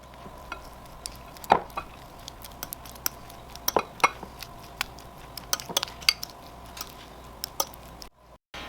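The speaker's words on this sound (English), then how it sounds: "First thing I like to do after getting everything out is mash my butter." Softened butter being mashed in a bowl for a peach crisp, irregular soft squishy stirs and scraping clicks of utensil against the dish, close and moderate, over a quiet room background.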